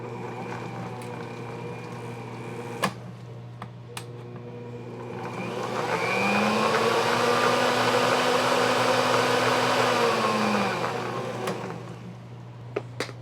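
An Ankarsrum mixer spins cupcake batter made with salted butter. The low motor hum swells into a rising whir for several seconds, then winds back down, with a few faint clicks and knocks around it.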